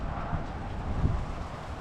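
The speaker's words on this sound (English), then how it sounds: "Very windy out here." Strong wind gusting outdoors in a vegetable garden with raised beds and broccoli, a steady broadband rush with low rumbling buffets against the microphone throughout.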